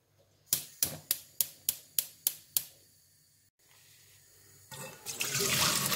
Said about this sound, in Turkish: Ve buzlu suya koyduğum bezelyelerimi süzüyorum.